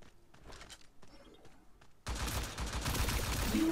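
Gunfire in the online shooter T3 Arena, starting with a few quieter scattered shots and then breaking into loud, dense, sustained firing that fills the second half.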